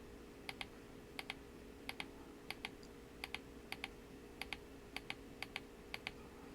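A malfunctioning computer mouse button is clicked over and over in quick double clicks, repeating at a regular pace. The clicks sound close and crisp against a quiet background hum.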